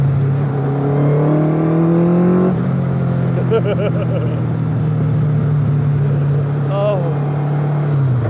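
Small MK Indy open-wheel car powered by a Kawasaki ZZ-R1200 motorcycle engine, revving hard and accelerating close by, a loud steady drone with a brief gear-change dip, as a man exclaims briefly.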